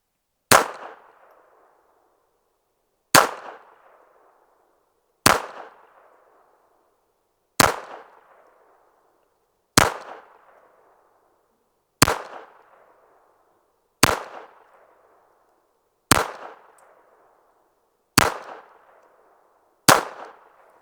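Ten sharp, evenly spaced shots from a Retay Arms RXP 22 pistol firing CCI standard velocity .22 LR, each crack followed by a short decay, with quiet gaps between them and no talking.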